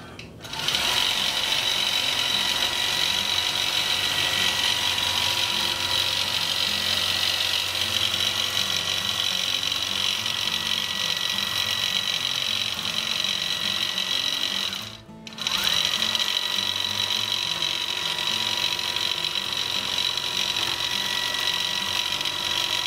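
A computerized quilting machine stitches arcs in a fast, steady mechanical whir and clatter that runs almost unbroken, with one brief pause near the middle before it resumes just as loud.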